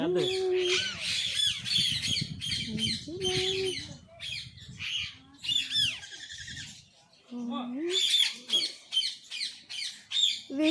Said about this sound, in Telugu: చిలకలు అయితే ఇటువైపు ఎక్కువ ఉన్నాయి కానీ.